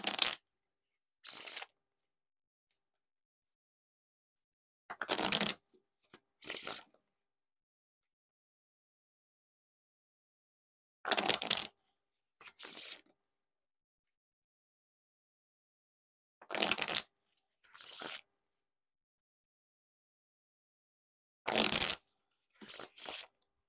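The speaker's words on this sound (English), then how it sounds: "Now onto the Riffle Shuffle or Bridge Shuffle." A deck of Bicycle Unicorn playing cards is riffle shuffled four times, each a quick pair of crisp flutters and a soft squaring tap, close by with long silent gaps between.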